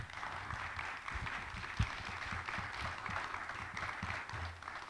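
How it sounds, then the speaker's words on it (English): An audience at a primary candidate forum gives the candidates a round of applause, a soft, distant patter of clapping heard faintly across the room with a few sharper claps near the middle. "If y'all will give them a round of applause."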